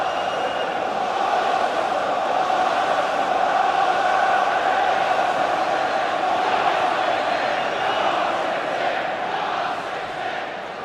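Simulated stadium crowd in the PES 2015 football video game at an FA Community Shield match, a dense, steady roar of many voices lasting throughout, loud and unbroken with no distinct talk.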